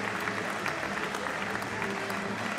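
An indoor crowd at a professional squash match applauds in steady, dense clapping that lasts throughout.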